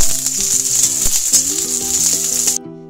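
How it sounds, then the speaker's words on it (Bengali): Bitter gourd fries in hot oil for shukto, a loud, continuous close sizzle with a few light scrapes and clinks, cutting off abruptly near the end. "এই করলাটাকে একটু ভেজে নেব।"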